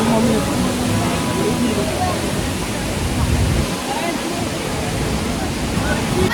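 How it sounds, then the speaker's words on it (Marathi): Devkund waterfall roars in a steady, broadband rush of falling water, continuous and close, with no pauses. "कसं वाटलं देवकुंड वॉटरफॉल?"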